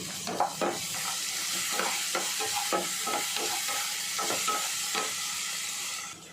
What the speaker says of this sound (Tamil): இதையும் போட்டு நல்லா வதக்கிடலாம்.